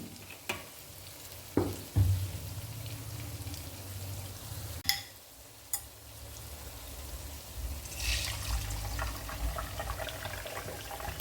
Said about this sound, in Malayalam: രണ്ട് ബാച്ചായിട്ട് നമുക്ക് ഈ മുട്ട ഒന്ന് സ്ക്രാമ്പിൾ ചെയ്തെടുക്കാം.